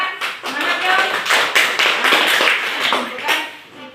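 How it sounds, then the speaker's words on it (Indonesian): Training participants clap their hands together in a dense, steady burst of applause that carries on for several seconds, mingled with a few voices and cheers. "Oh, Mas Rio. Kita tepuk tangan. Semangat, Rio."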